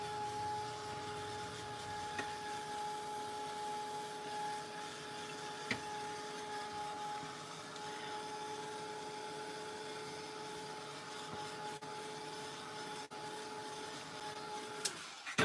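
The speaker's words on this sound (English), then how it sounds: "I'm just gonna take the heat gun to it real quick so we can keep moving." A heat gun dries a craft project with a soft, steady whirring hum and a faint tonal whine, quiet and continuous, with a few small knocks and no talk.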